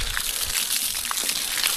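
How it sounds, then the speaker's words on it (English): Water gushes from a 2-inch pump line onto pond ice, a steady broadband rushing and sloshing that stays loud and continuous throughout with no talking. "This 2-inch line is gonna go way faster than the little sub pump with the garden hose"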